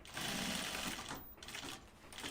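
A sewing machine runs in a steady, loud burst of stitching while a Pocket Bucket is sewn, dipping briefly once before continuing alone with no talking.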